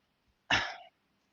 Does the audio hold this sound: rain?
no